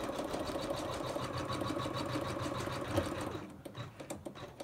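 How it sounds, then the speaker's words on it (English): An embroidery sewing machine stitches out a design for a stuffed toy, its needle hammering in a fast steady rhythm up close, loud and continuous before cutting off near the end. "Press start, and it's going to do that stitch all over again."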